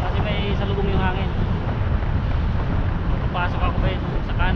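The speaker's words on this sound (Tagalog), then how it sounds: "Nasa lubong ko yung hangin, malakas yung hangin." Strong headwind buffets the microphone on a mountain bike descending a downhill trail near Dubai, a loud constant roaring rumble with a voice speaking faintly beneath it.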